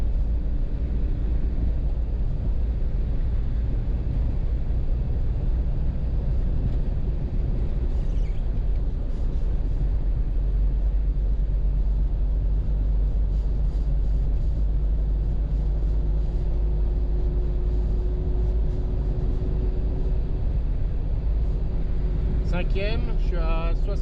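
Car engine driving steadily in fourth gear at about 1500 rpm, a continuous low rumble with wind noise, and a faint rising whine near the end.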